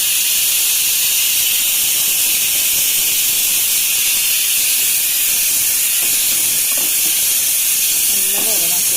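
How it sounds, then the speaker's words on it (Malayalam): Onion, green chillies and curry leaves sizzle steadily in a pan in a Kerala-style kitchen, a loud continuous frying hiss throughout with faint stirring clicks near the end. "ഇതെല്ലാം കൂടി ഒന്ന് വഴറ്റിയെടുക്കാം. കൂടെ തന്നെ നമുക്ക് കുറച്ച് കറിവേപ്പിലയും ചേർത്ത് കൊടുക്കാം."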